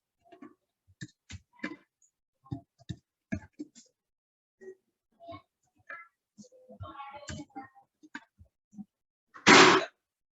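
Someone types on a computer keyboard, producing sparse, irregular key clicks with short runs and pauses, close and quiet, ending in a louder burst of clatter.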